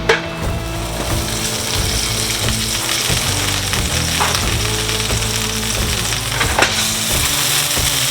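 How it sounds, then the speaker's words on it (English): Butter sizzles and crackles steadily in a hot frying pan, with a few light clicks of a pan or utensil, close and loud. "Throw a little butter in the pan."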